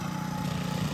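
A Raja Bhai R400 Premium power tiller engine runs at a steady idle, a close, continuous mid-pitched mechanical drone with an even throb and no voices over it.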